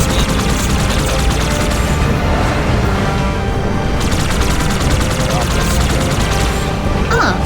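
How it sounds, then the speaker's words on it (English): Rapid automatic gunfire in the video game Halo 2, loud dense bursts of shots with a short pause in the middle, mixed with game noise and possible voices. "you can shoot guns on the"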